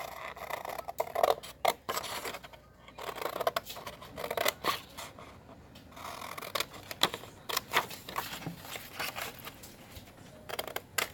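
Scissors snip through paper ephemera pieces for a vintage junk journal, a quiet run of irregular close clicks and crisp cuts with soft rubbing and handling noises between them.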